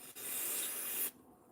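A single short blast of electrical contact cleaner spray hisses close up for about a second, then cuts off abruptly into quiet.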